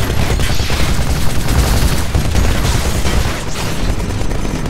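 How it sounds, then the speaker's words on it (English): A machine gun hammers away without pause in the mech shooter video game Titanfall, a loud, dense, continuous stream of fire with heavy low booms layered underneath. "This just acts like a normal machine gun rather than a chain gun."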